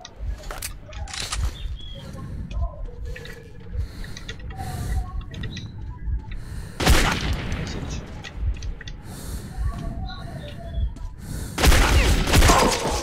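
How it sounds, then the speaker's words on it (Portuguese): Gunfire shootout in the first-person shooter Metro 2033, with bursts of rapid shots and mechanical clatter running throughout, heavier volleys near the middle and the end, and no talk. "Já comecei aqui o tiroteio sem querer."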